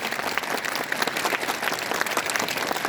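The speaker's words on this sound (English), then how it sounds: "Which class can clap much louder sound" Loud, dense clapping from a class of students at a school morning assembly, many hands beating together in a vigorous, steady burst that fills the space.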